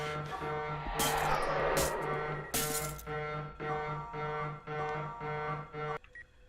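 A loud, repeating electronic alarm in a horror video game blares in a steady pulsing pattern, with bursts of harsh noise early on, then cuts off abruptly near the end.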